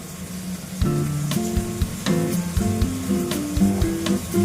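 Tomatoes and green chillies with chopped ginger cooking down into a gravy in a pan, an ongoing close sizzle with clinks and scrapes of a spoon stirring, no voices.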